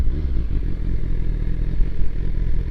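A BMW S1000RR sport motorcycle on a night ride through Berlin at Christmas. The engine is close and loud with a low rumbling throb and some clatter, and it runs steadily throughout.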